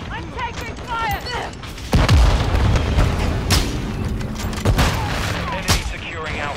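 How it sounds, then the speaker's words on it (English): Incoming gunfire and explosions in Call of Duty Modern Warfare II: a heavy blast followed by scattered shots and more booms, loud and close, with a voice speaking at the start. "I'm taking fire."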